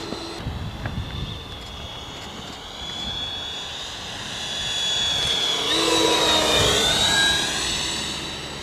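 An aircraft making a low pass over an airfield in Iceland, its engine drone swelling as it approaches and peaking loudly overhead with a falling whine as it passes, steady and continuous throughout.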